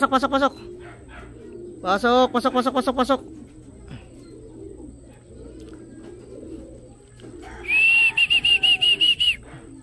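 A young racing pigeon lands at its home loft at the end of a derby race in Santiago, Isabela; soft cooing and bursts of rhythmic calls sound close by, with someone talking intermittently over them.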